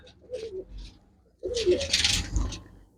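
A pigeon coos close by, a soft short call followed by a louder, fuller coo, with rustling and a faint chirp around it.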